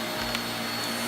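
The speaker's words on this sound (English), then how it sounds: "I love to vacuum" A Shark vacuum cleaner runs steadily on the floor, a constant whirring motor hum with a brief louder bump partway through, heard alone with no talk.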